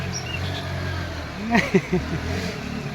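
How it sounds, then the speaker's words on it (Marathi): A vehicle driving along a flooded village road during heavy rain, a steady close engine drone throughout, with brief voice-like calls rising over it midway. "अशा गाड्या त्या रोडावरून जात आहे"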